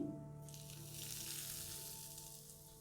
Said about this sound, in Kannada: ಕಾಯಿಸಿದ ಎಣ್ಣೆಯನ್ನು ಸ್ವಲ್ಪ ಇದ್ರ ಜೊತೆ ಬೆರೆಸ್ತಾ ಇದ್ದೀನಿ